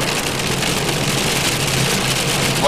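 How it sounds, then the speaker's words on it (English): A June hailstorm in Tennessee produces a loud, dense, unbroken patter and roar of hail striking surfaces, close and steady for the whole short stretch. "We're in a hailstorm."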